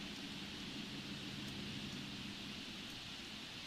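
Rain pours in The Sims 4 as a continuous, moderately quiet hiss, smooth and unbroken with a soft low-end wash and no talking.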